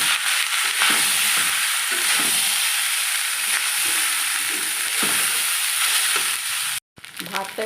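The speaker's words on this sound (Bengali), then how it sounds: "এবার আমি ভাতটা ঢেলে দিচ্ছি।" Leftover rice seasoned with salt and cumin powder frying in a hot wok, a loud, steady sizzle and hiss that runs almost unbroken, with a brief cut near the end.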